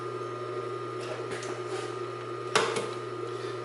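A Consew 226R industrial sewing machine stitches in reverse up close, giving a steady motor hum broken by a few sharp mechanical clicks.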